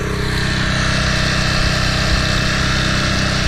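A Toro Recycler Personal Pace lawn mower from 2010 runs with a steady, loud engine drone that holds at an even level throughout, close by with no voices.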